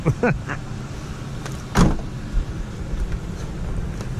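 Doors on a 2005 Ford F-150 king cab are opened, giving a few short, close clunks and latch clicks with a louder thump near the middle, set against quiet cabin background.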